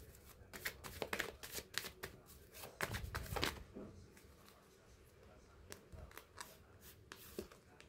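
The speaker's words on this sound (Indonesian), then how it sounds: "Kita ambil beberapa kartu buat kamu" Tarot cards riffled and shuffled in a run of crisp, papery bursts, some louder near the start, with softer slides and taps as cards are drawn and laid out, no voice.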